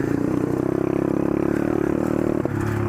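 A two-stroke pit bike engine holds a loud, buzzy rev near the mic, with a rattling, pulsing drone and a brief clatter near the end; no one speaks.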